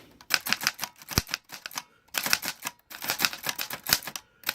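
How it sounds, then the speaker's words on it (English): A cleaned Corona Model 3 foldable typewriter types in quick bursts of sharp clacks, with a short pause in the middle and a heavier thump now and then, close and clear with no talking. "Let me show you some of the typing"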